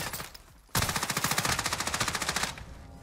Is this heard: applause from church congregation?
no